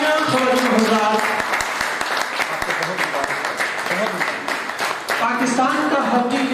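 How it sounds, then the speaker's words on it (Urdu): Audience applause at a book launch ceremony fills the room, a dense patter of clapping lasting several seconds beneath a voice and some harmonic sound, fairly loud and continuous. "بہت سی تالیاں حضرات۔"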